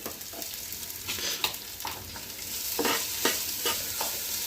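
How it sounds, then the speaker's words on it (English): Grated coconut stirred into a simmering curry in a pan, a spoon scraping through in irregular strokes over a soft steady sizzle, close and moderately loud with no talking. "And we'll just mix this in with the curry."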